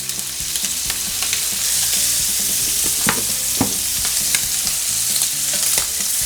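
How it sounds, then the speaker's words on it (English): Shrimp seasoned with Cajun spice cooking in a hot pan, a loud continuous close sizzle with occasional clinks and stirring scrapes over faint background music. "I'm gonna cook my shrimp now."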